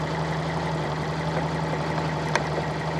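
A Fiat Panda 4x4 Sisley engine idles steadily with a smooth, even low hum and a faint tick, newly tuned timing and carburettor, one brief click near the end.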